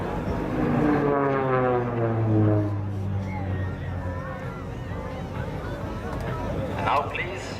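A Pilatus PC-7 turboprop of the Swiss Air Force team makes a loud solo flyby at an airshow, its engine drone sweeping downward in pitch as it passes, with an announcer talking over it.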